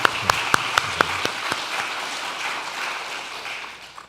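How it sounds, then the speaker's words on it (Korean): A church congregation at a Sunday worship service applauds the praise team: a few sharp, separate claps open, then they swell into a continuous wash of applause that slowly thins and fades toward the end. "찬양으로 또 영광 올려주신 우리 찬양팀께 우리 같이 함께 하나님께 영광의 박수 다시 한번 올릴까요?"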